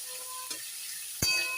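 Onion and tomato fry in a pan with a soft, steady sizzle, briefly broken by a sharp knock or clatter near the end.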